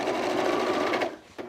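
A sewing machine hums steadily as it stitches through denim jean shorts, a close, even mechanical whir that slows and stops near the end with a brief knock.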